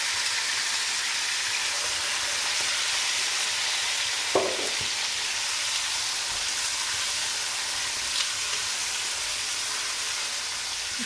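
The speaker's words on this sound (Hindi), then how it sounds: "चिकन ऑयल, जीरे और खड़े मसाले के साथ ना इसको हमने फ्राई करना है" Chicken pieces frying in oil with cumin and whole spices for pulao give a steady, close sizzle that runs for about eleven seconds, with a brief clatter of stirring partway through.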